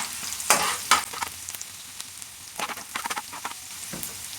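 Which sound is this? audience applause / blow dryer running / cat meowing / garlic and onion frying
garlic and onion frying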